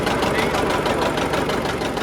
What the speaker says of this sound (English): This tractor's never worked this hard probably in 30 years.